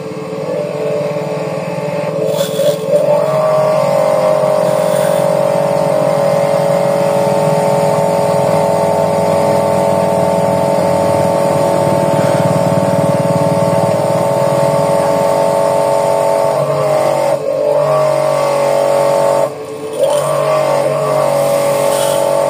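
A jet cleaner pressure washer with a clogged nozzle runs nearby, a loud steady motor drone that holds for over twenty seconds with a brief dip near the end, with no voices.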